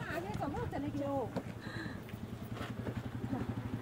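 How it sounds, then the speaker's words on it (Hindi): A motorcycle pulls up at an outdoor birthday gathering on a cold evening, its low steady engine hum running beneath constant conversation and nearby voices. "और हस्बैंड जी आ रहे हैं बाइक पे, पहुंच गए"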